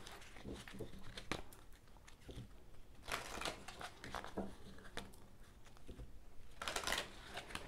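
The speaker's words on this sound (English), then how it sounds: "One last shuffle." Tarot cards being shuffled up close, quiet riffling and shuffling bursts with soft taps and rustles between them, no voices.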